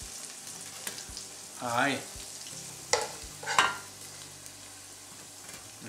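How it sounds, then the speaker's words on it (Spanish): Reduced white wine and lemon juice hitting a pan on a ceramic stovetop, giving a steady sizzle with a few short bursts of louder frying as the liquid goes in. "mira cómo ya ha reducido lo que es el vino, el limoncito, y ahora lo echamos aquí"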